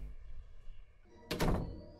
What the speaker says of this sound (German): Die Tür ist zugegangen.